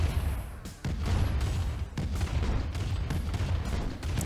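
Artillery fire in Command & Conquer Remastered, a steady rumble of booming shots and distant impacts blending into a continuous low roar.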